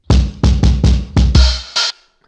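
A kick drum picked up by the snare bottom mic and heavily distorted hits about seven times in a quick, uneven pattern. Each hit is a loud, crushed, fuzzy thump, and the last one fades into silence.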